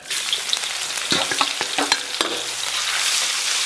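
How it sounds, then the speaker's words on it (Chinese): Scallion, ginger, garlic and dried chilies hit hot oil in a wok with a loud, bright sizzle, while a spatula scrapes and clatters several times as the aromatics are tossed close by. "油温4、5成热，咱们把葱姜蒜、干辣椒给它下里边"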